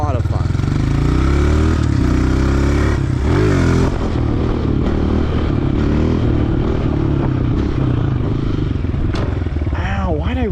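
A Honda CRF 125F dirt bike engine roars loudly and continuously, revving and clattering close by with shifting pitch as the rider pulls a wheelie, and a voice is heard over it.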